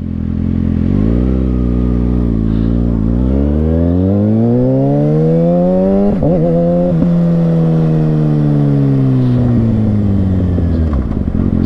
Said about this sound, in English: put it in first, start off, and then I'm going to shift it in the second